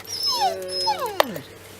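A dog in a park whimpers and yips in a run of high, sliding whines, with one sharp brief bark partway through, near and fairly loud.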